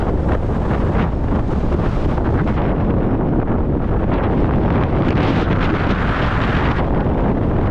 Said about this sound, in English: This is certainly the windy side of the island.